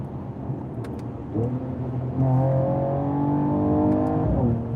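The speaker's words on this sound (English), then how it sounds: "The burbles from the exhaust were good." A 2021 Mercedes-AMG GT 43 4-Door Coupe engine idles roughly, then revs up into a steady sustained drone with a throaty exhaust note, dropping off with a short burble at the end.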